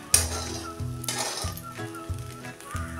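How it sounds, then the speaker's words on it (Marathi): Sabudana khichdi with steamed boiled potatoes being sautéed and stirred in a pan, steady close sizzling with repeated clinks and scrapes of a spoon against the metal. "हे आता साबुदाणा मऊ होईपर्यंत एकसारखं परतत राहूया।"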